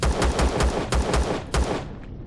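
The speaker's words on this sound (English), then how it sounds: "let me grab a pistol and see if I can shoot out" Pistol shots fired in the video game Empyrion, about seven sharp evenly spaced cracks ringing out close and loud over a low hum, with no one talking.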